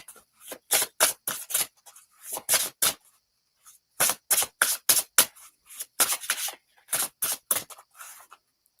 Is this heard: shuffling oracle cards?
yes